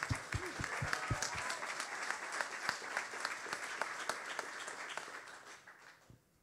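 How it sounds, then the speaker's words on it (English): Scattered applause at a Hackaday Prize ceremony, crisp claps from a small group that start strong and thin out toward the end, heard somewhat at a distance in a hall. "I think someone's clapping for him over there"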